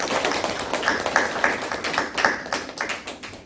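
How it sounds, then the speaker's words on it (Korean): A church congregation at a Sunday worship service claps together, a few sharp, fairly regular hand claps from a modest group sounding close and moderately loud, with no talking over them. "우리 박수로 하나님께 영광을 드립니다."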